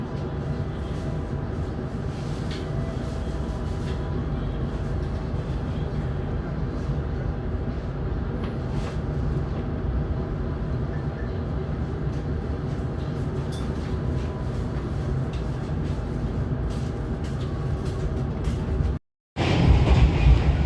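A passenger train in Indonesia, travelling on the route to Solo, rumbles steadily along the rails with a continuous low roar and faint rhythmic clatter, broken by a momentary dropout just before the end.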